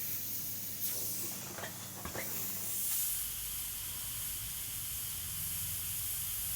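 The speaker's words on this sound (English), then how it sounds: "So you'll notice I'm not just airbrushing flat textures, I'm starting to build some of that detailing." An airbrush sprays paint while underpainting an eagle, a steady soft hiss running throughout at low level, with a few brief faint swishes near the start and no voices.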